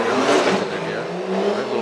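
A 2JZ-powered Subaru BRZ drift car revs hard at a Formula Drift pro qualifying round in New Jersey, its engine roaring loud and close with a faint trace of tire squeal.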